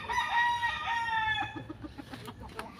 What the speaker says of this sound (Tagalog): Ito, yung manok niya.